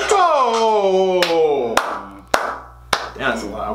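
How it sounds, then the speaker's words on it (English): Sharp, loud clap hits land at intervals in a rap track, each a crisp percussive crack cutting through sustained melodic tones and a rapping voice. "That's a loud clap."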